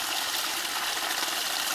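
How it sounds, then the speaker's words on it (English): Natural hot spring water flows steadily on Yang-Ming mountain near Taipei, Taiwan, a continuous close hiss and rush of running water with no voices. "hot spring water, natural hot spring water in Taiwan, on the Yang-Ming mountain"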